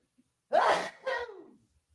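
One close, two-part sneeze: a sharp breathy burst followed by a shorter trailing expulsion, with silence around it.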